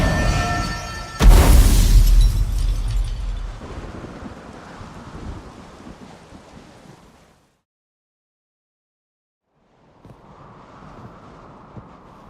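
A thunderstorm in the video game The Witcher 3: a loud thunder crash with rumbling rain that gradually fades to silence, then a quiet wash of ambient sound returns.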